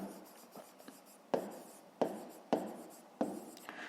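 Pen scratching on paper while handwriting a fifth-grade maths exercise: a series of short, close strokes with sharper taps between quieter scribbles, and no talking.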